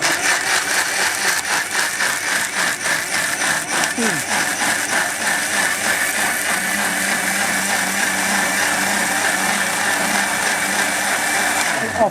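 A Panasonic 2000 watt blender with a jug runs steadily and loudly with a whirring, rattling motor, shifting through different speed settings.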